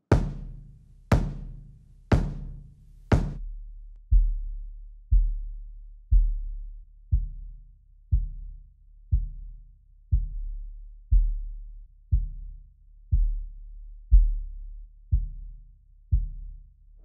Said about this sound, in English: Let's hear the kick again and let's play with it.